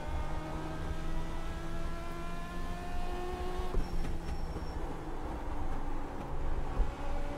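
An Advanced Legends race car engine in the iRacing sim drones steadily at Langley, with rising, shifting harmonic tones and a constant low roar, loud and close, with no talking.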